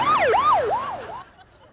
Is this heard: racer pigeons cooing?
no